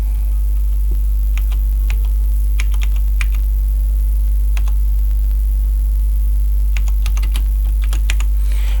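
Keys click on a computer keyboard as text is entered into an Excel receipt form, with scattered bursts of taps over a strong steady electrical hum.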